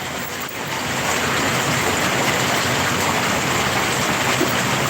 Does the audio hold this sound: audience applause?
no